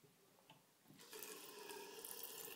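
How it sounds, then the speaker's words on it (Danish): A kitchen tap turned on and running steadily, a broad continuous hiss of flowing water that starts abruptly after a moment of quiet and keeps going at moderate level, close by. "Så er det selvfølgelig at tænde for vandhænden her."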